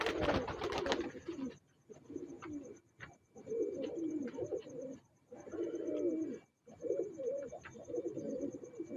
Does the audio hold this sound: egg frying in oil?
no